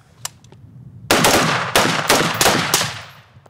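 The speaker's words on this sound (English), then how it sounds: "Whistler tastet sich langsam weiter an das Schießen mit dem Gewehr ran" Rifle fire at an outdoor shooting range: one or two sharp single shots, then a fast string of loud, close cracks in quick succession that trails off near the end.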